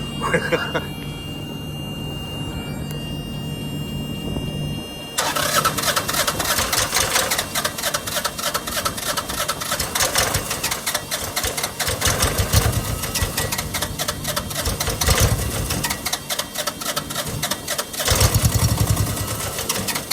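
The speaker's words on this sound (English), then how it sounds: "She's gonna spit and sputter when she starts, but that's to be expected." A Tripac Evolution truck auxiliary power unit engine cranks and catches, running loud with uneven, sputtering knocks after a quieter opening stretch, with people talking over it.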